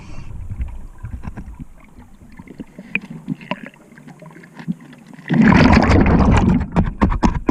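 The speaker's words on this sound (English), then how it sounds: "I'll give the blades on the propeller a couple of scrapes just to show what kind of marine fouling is on those blades" Marine fouling scraped off the propeller blades of the boat Judge: a few quieter knocks and scuffs at first, then a loud, close, rough scraping burst.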